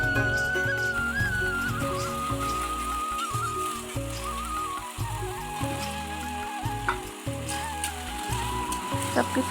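Spices, eggs and fried potatoes sizzling and frying in a wok, a steady crackle running through with clinks of a utensil.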